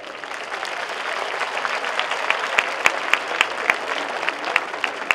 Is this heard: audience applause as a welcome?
yes